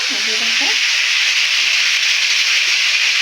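Chicken sizzles steadily in a hot pan with bay leaf, dried red chilli and onion for a home-cooked special chicken dish, a loud continuous frying hiss filling the whole moment, with a few brief low clinks near the start.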